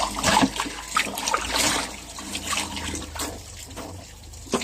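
Tap water runs and splashes while dishes are washed by hand at a sink, a steady close trickle with uneven splatters and clinks throughout.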